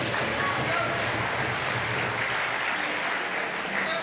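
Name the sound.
audience applause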